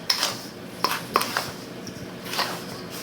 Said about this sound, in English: now we're gonna stir all this in